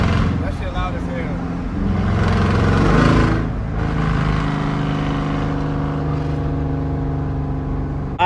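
Loud, droning exhaust roar from an SRT Jeep with catless mid pipes cruising at around 60 mph, a thick continuous engine note that swells briefly, with a voice partly buried under the noise.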